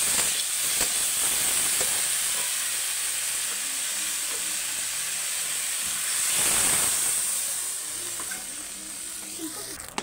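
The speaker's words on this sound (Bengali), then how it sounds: "এবার জল ঢেলে দেবো" Water poured into a hot pan of partly cooked cauliflower and potatoes sets off a loud, continuous hiss and sizzle that swells midway, with a voice faintly present.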